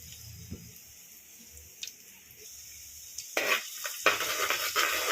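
Sliced garlic drops into a hot pan for Kerala-style fish molly, and a sudden loud sizzle follows after a few faint kitchen clinks.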